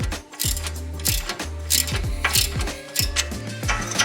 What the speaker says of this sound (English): Next we're going to take this tie rod off, which is a 17 millimeter. And we'll just loosen that